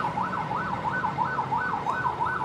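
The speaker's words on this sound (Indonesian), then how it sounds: "Itu ada mobil ambulan" An ambulance siren wailing in a steady repeating up-and-down pattern on a street, loud and continuous with road traffic underneath.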